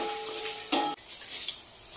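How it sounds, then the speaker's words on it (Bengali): Carrots frying in a pan for a spicy vegetable pasta, a soft steady sizzle with a brief clatter of stirring in the middle, close and fairly quiet. "গাজরগুলো একটু ভালো করে ভেজে নিতে হবে।"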